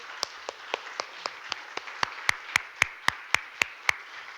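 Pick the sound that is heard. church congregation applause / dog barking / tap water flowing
church congregation applause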